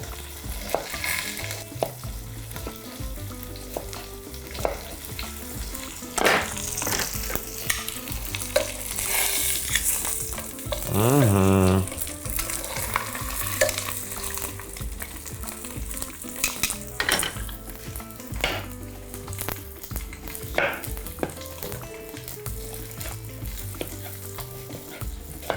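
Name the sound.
beef pieces frying and being stirred in a pan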